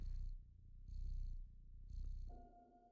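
A cat with two mint leaves in its mouth purrs close and soft in a rhythmic rising-and-falling pattern of about three breaths, alone and quiet, ending with a faint tonal hum.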